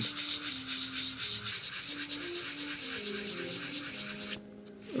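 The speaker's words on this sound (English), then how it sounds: "don't go crazy with a real heavy sandpaper and take off a lot of material" Sandpaper rubs back and forth across a Silverstein Works Alta Ambipoly synthetic reed, a close, steady raspy scrubbing in quick repeated strokes that stops abruptly near the end.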